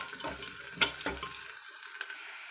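Onions half-frying with curry leaves in a pan, giving a soft, steady sizzle with a few stirring scrapes and clinks, close and moderately quiet, no voices.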